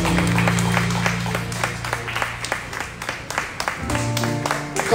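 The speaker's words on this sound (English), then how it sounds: "Clap your hands and don't stop clapping." Church congregation at a Sunday worship service clapping hands steadily and continuously, a dense crowd rhythm heard over sustained music, with a voice speaking over the clapping.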